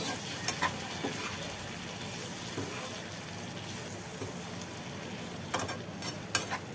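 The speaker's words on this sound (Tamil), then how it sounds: "அப்படியே நல்லா கிளறி விடணும்" Mango pickle coated in chilli powder is stirred in a pan over low heat, giving a steady soft sizzle with scraping spoon strokes and a few sharper clinks near the start and end.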